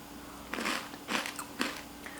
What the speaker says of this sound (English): Crunchy Cheeto,